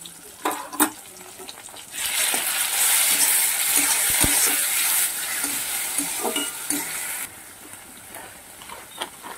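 A spoonful of ginger, garlic and dry chilli paste hits a hot pan of frying tomatoes and bursts into a loud, sustained sizzle that eases back after several seconds, with a few scraping stirs before and after.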